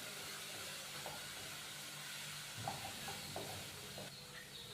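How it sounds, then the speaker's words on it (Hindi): Masala spices with a little water roast in a pan for a minute, giving a faint, steady sizzling hiss broken by a few soft stirring scrapes. "1 मिनट के लिए हम मसाले को भून लेंगे"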